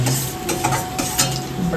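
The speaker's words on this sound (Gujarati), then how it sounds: "સરસ મજાનો વઘાર ચાલી રહ્યો છે ને હવે બટેકા નાખવાની તૈયારી છે" Potatoes hit hot tempering oil for Gujarati garlic bateka bhungala, giving a close, steady sizzle broken by a few quick stirring scrapes against the pan.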